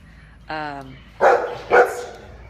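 A dog gives two loud, sharp barks close by, preceded by a brief higher whine or yelp.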